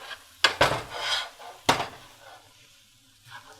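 A pan of curried cauliflower and broccoli rice is lifted off the heat, giving two loud metallic clanks and a short scrape close by, then a soft lingering sizzle that fades.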